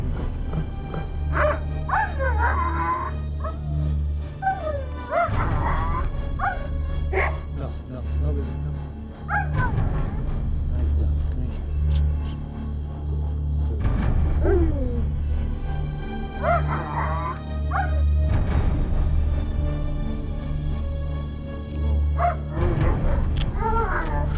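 A dog barks and yips repeatedly in short bursts, with whimpering between them, over a steady low background hum and a high ringing tone, while people speak nearby.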